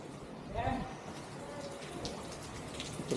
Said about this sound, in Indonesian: Kebetulan cuacanya lagi hujan.